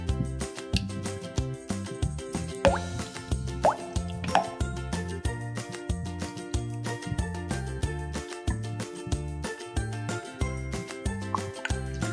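Clear slime is mixed with glue, water and activator, giving steady wet plops, drips and sticky squelches in a quick uneven rhythm, close and fairly quiet, with no talking.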